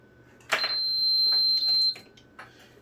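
A pi-top buzzer gives a sharp electronic tone that starts with a click, holds steady for about a second and a half, then stops, followed by a faint tap.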